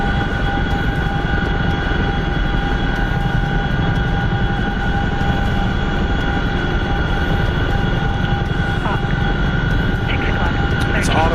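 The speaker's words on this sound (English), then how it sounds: "the friggin' Chinook is so loud" Chinook helicopter engine in a flight simulator game, a loud constant turbine whine and rotor drone holding steady the whole time, with a voice speaking over it.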